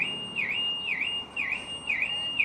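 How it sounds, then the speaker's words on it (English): A police car's alarm is going off, a loud, steady electronic warble that rises and falls in a regular repeating cycle about once per second, continuing without pause. "Oh, the alarm's just gone off on that cop car there."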